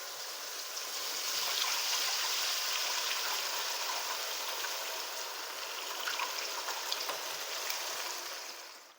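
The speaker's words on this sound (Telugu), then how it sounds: "మనం కలిపి పెట్టుకుని చింతపండు నీళ్ళు అవి దీనిలో పోసేసుకుందాం" Tamarind water is poured into a pot of small-fish curry, giving a continuous close splashing trickle that holds steady for several seconds and then tails off.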